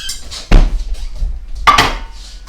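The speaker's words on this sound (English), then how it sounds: "We're going to cut the turkey bacon." Frozen turkey bacon being cut in a home kitchen: two hard, knocking chops about a second apart, each a sharp thud with a brief clatter, close and fairly loud with no talking.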